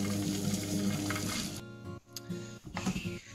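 A Monsieur Cuisine Connect food processor melts butter and chocolate at 50 degrees on speed 1, giving a steady mechanical whirring hum with faint clicks and stirring scrapes, close and unaccompanied by voices.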